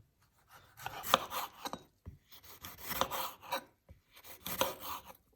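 Knife slicing half a bell pepper into half-rings on a board for homemade pizza, three bursts of quick, crisp chopping strokes separated by short pauses, close and clear with no talking.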